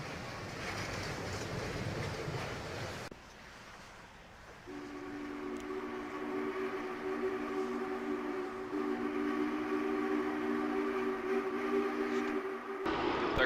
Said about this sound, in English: The crew's going to be doing this a lot, back and forth, to make sure the locomotive runs okay.